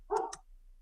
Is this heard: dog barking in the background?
yes